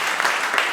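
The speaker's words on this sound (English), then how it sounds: "Give them a round of applause as well, please." Brief wash of audience applause at a blockchain conference in Seattle, steady and fairly loud clapping from a crowd honoring event partners.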